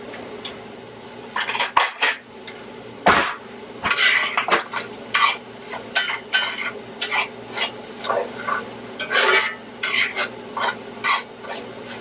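A spoon scrapes and clinks repeatedly against a pan while stirring Rice-A-Roni with beef. Irregular metallic strokes ring out close and clear over a faint background hiss, with no talk.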